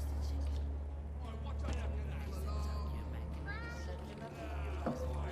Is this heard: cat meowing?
yes